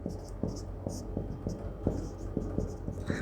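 Pen or chalk strikes a board in an even series of short taps and strokes while a probability exercise is worked through, steady and fairly close, with a person talking over the writing.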